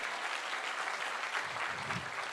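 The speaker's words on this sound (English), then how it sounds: "let's give a big round of applause for Professor PPC for hosting us." A large audience at a university event with Google CEO Sundar Pichai breaks into sustained applause, dense crowd clapping that stays steady and fairly distant across the whole stretch.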